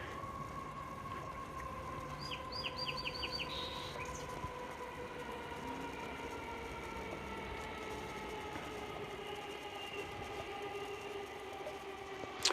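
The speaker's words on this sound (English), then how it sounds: "Not as big on the train sounds, but we should get further from that in a bit." A passing train rumbles steadily nearby with a continuous low roar and tonal hum, while a bird's quick trilling phrase sings faintly above it early on.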